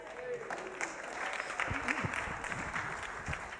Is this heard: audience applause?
yes